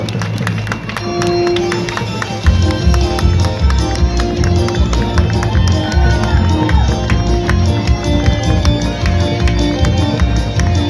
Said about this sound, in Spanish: Fuerte, fuerte el aplauso para este bonito carro alegórico.